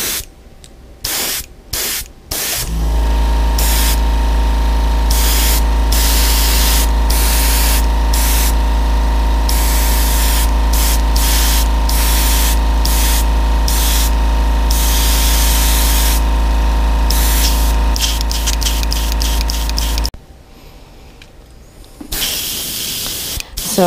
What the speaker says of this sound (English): So we've got this pearlescent white on here now, which we're spraying in.